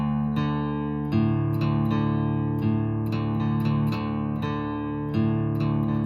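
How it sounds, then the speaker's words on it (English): Guitar picking a simple opening riff on open strings, notes ringing and overlapping in a steady, even pattern, played alone and close with no voices. "the first riff of the song is really simple because all you use are the open strings"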